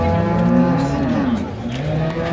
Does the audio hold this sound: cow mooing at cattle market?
yes